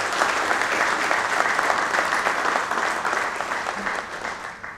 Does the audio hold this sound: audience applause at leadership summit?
yes